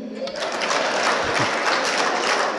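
A crowd claps in a dense, continuous wash of many hands, loud and close, with no pause across the short stretch.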